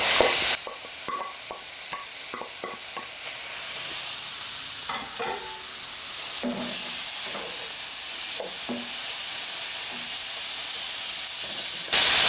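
Carrots tipped into a hot pan with frozen vegetables and broken-up garlic for eggrolls, giving a steady close hiss with clattering stirring knocks throughout, no voices.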